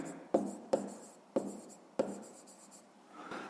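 A pen writes by hand on paper in a few sharp taps and scratchy strokes, quiet and close, with a voice faintly present.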